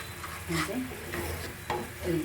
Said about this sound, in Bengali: এখন নাড়াচাড়া দিয়ে দিচ্ছি